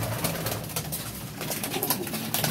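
Pigeons coo in a low, throaty rolling murmur, several birds overlapping continuously at moderate distance amid a loft of flying-breed pigeons kept for competition.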